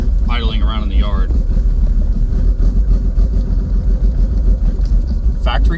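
A vehicle engine idles around a yard with a steady, loud low rumble and some wind buffeting on the microphone. A voice is briefly audible at the start.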